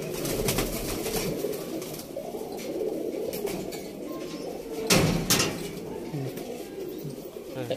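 Pigeons coo steadily inside a loft, a low rolling murmur from several birds close by, with scattered clicks and a brief louder burst midway, and no clear talk.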